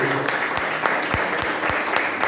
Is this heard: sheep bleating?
no